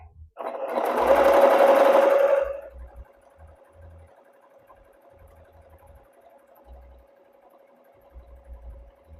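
A sewing machine gathers a length of fabric in one loud, dense burst of needle stitching lasting about two seconds, then drops to a steady low motor hum with faint thumps.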